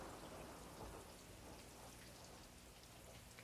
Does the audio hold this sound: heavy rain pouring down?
yes